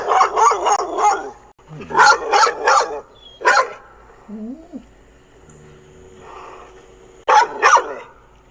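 A dog barks in quick bursts of three or four sharp barks, then a pause with a low whine or whimper, followed by another pair of loud, close barks.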